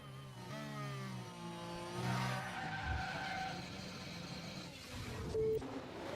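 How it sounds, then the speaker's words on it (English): Race cars in an F1 Manager 24 race make contact, with engine whine sweeping in pitch and a skidding, scraping rasp through the middle, followed by a brief high squeal near the end, all fairly loud. "And the contact between the cars, inevitable."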